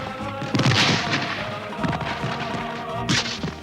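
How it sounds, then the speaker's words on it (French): Cannons fire in a Prussian counter-attack during a wartime battle scene. Several heavy booms land roughly a second or so apart over a continuous rumbling battlefield din. "les Prussiens contre-attaquent au canon"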